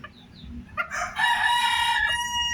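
A bantam rooster, one of a flock of ornamental bantam chickens kept for sale, crows once in a loud, sustained call after a few short clucks, close by with no talk.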